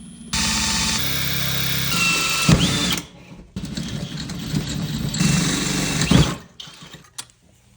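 Power drill with a small bit boring a hole for a kitchen cup washer (glass rinser) install, running in two steady whining bursts of about three seconds each with a short pause between, close and loud with no talk.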